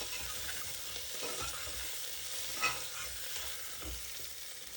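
Diced potatoes are stirred and fried in a pan for drumstick curry: a soft, continuous sizzle with light scraping and one brief clink of the utensil against the pan.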